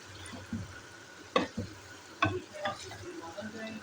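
White lobia beans being mixed in a cooking pot, heard as a low simmer with scattered spoon knocks and stirring scrapes, a few sharper clinks standing out.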